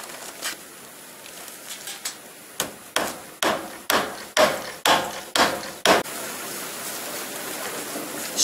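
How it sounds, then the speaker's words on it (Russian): Hammer driving nails into the rafters and battens of a frame-house roof before metal tiles go on: a close, loud series of about ten sharp, evenly paced blows after a few lighter taps. "проколачиваем каждый стык, каждую стропилу, каждую доску по 3 гвоздя минимум."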